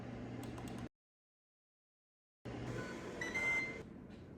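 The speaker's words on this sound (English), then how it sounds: "Our timer just went off." An oven timer sounds during baking of stuffed peppers, a thin electronic beep standing out against steady kitchen background noise after a stretch of silence.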